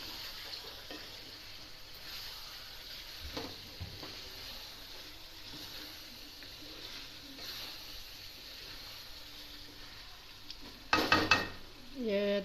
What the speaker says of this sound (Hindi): और फिर इसको भूनते हैं।